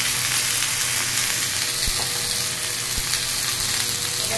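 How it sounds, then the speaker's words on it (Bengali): Cumin seeds and ginger paste frying in hot oil make a loud, dense, unbroken sizzle close by, with a couple of faint knocks in the middle. "তেলের মধ্যে জিরে ফোড়ন দিয়েছি, আদা বাটা দিয়ে দেবো"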